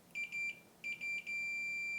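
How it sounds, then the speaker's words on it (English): Continuity beeps from a multimeter probing a fuse in a vintage Sony unit: two clear high electronic tones, a short pair of chirps followed by a longer steady beep, close and alone with no talking. "I've got a meter set to continuity, get the beep noise when we do that."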